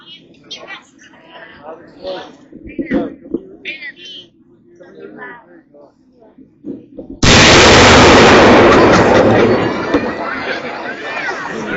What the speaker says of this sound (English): you will experience a loud and thunderous bang from the demolition charge